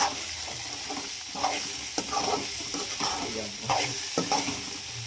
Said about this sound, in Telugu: కారం వేసి మళ్ళీ అటు ఇటు కలపెట్టుకోండి.